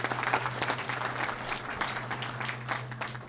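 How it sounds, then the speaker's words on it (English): Audience applause at an arts education announcement in a school setting, moderately loud and steady clapping with a low constant hum beneath it. "please, round of applause for everything they do here"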